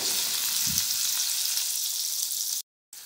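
Chopped big onions fry in hot oil for a kulambu, a dense, even sizzle close by with a soft low bump early on, cut by a brief dropout near the end.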